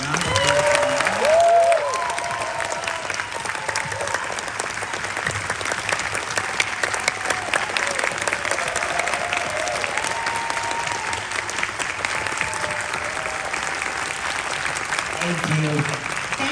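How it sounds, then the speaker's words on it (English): Audience at a comic convention Q&A in Melbourne breaking into a sustained round of applause, loud and steady from start to finish, with faint voices in the crowd. "can we please give a big round of applause?"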